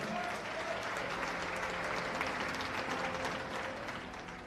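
A church congregation applauding from their seats during a worship service, a steady dense wash of clapping that holds for several seconds and fades slightly at the end.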